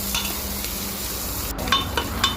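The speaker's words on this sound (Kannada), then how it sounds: "ಬ್ರೌನ್ ಆಗುವ ತನಕ ಒಳ್ಳೆ ಮಾಡಿ ಫ್ರೈ ಮಾಡ್ತಾ ಇರಬೇಕು" Soft, steady frying sizzle on a medium flame while something browns, with a few light stirring scrapes near the end.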